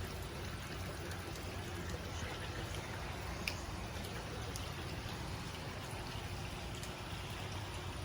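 Water rushes steadily into a Kohler Kingston toilet tank as it refills, a constant soft hiss and trickle at low level with no voices.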